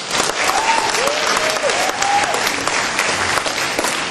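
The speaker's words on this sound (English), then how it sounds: "So let's give them a great round of applause." A gala audience breaks into loud, sustained applause, a dense wash of many hands filling the room, with a brief voice faintly audible early on.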